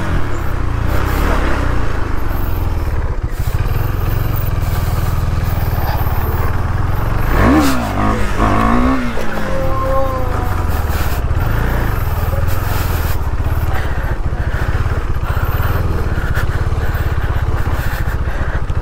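A motorcycle engine drones steadily, then climbs into a rising rev around the middle as the bike lifts into a wheelie, loud and close against constant engine noise, with no talk.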